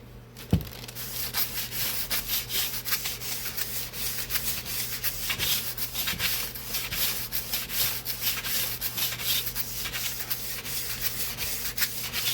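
Steady back-and-forth rasp of sandpaper rubbing on wood, continuous and close, with no speech.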